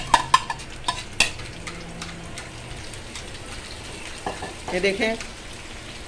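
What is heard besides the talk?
egg batter frying in hot oil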